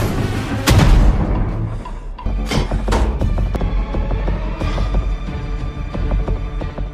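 Explosion in the superhero film Samaritan, a heavy booming blast followed by rumbling debris impacts and scattered crashes, loud and close, with no talk.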